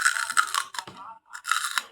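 Crunchy food being chewed up close at a mukbang, loud crisp bites in quick bursts with a short pause in the middle.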